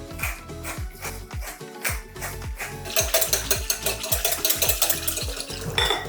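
Salt and pepper ground over salad dressing with a hand grinder: rapid repeated ratcheting twists, a steady mechanical clicking rhythm close by, growing brighter and grittier in the second half.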